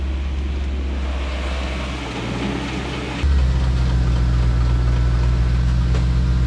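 A BMW E92 M3 engine pulling away in first gear, a close, loud, steady drone that swells sharply partway through as the revs climb, with no talking.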